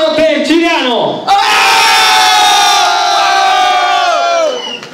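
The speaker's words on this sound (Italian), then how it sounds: "Allora, un urlo per Ciriano" A crowd at a freestyle rap contest shouts loudly in support of a contestant, a brief rising burst that swells into a sustained roar of massed voices lasting several seconds, then fading.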